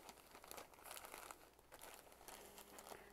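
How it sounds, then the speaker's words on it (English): Sequins for embroidery are sorted by hand, producing soft, continuous crinkly rustling close to the microphone, faint but steady, with no voices. "you're gonna hear a bunch of rough rustling over here as I sort out sequins"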